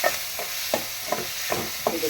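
Tomato being stirred in a hot oiled pan for karamani kara kuzhambu: rhythmic spatula strokes about every 0.4 seconds scrape over a steady, soft sizzle, close by with no talking.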